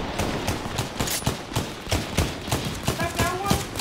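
Rapid gunfire in a Fortnite match, with sharp shots cracking in uneven bursts and quick clusters. A player talks over the shooting throughout.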